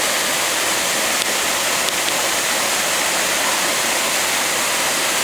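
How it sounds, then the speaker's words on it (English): Water rushes loudly and steadily at a frozen waterfall in snowy spring mountains, a dense continuous roar close by with no voices. "Pretty cool frozen waterfall action."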